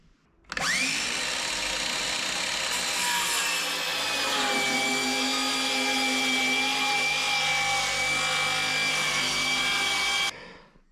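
A power saw bites into a wooden floor joist, trimming about an inch and a half off, with a loud, sustained whining cut after a brief spin-up, stopping abruptly near the end.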